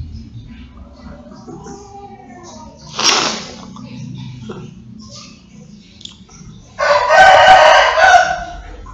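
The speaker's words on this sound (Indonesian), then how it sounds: "Berkokoklah terus, berkokok." A rooster crows twice, the second crow louder and longer, with soft background voices and faint clucking in between.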